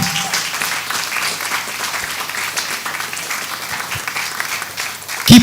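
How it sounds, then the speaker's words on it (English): An indoor audience applauds steadily for several seconds, a dense wash of clapping that stays fairly loud throughout, with a brief thump near the end. "Keep clapping, please."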